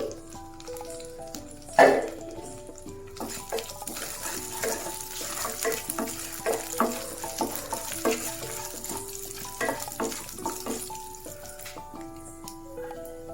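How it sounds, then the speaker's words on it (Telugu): Coriander seeds and about ten peppercorns crackle and sizzle in a hot pan, with scattered tinkling knocks and stirring scrapes near the mic, continuous over the whole stretch with no talk. "కొద్దిగా ధనియాలు, ఒక 10 మిరియాలు వేసి బాగా వేపుకోవాలి"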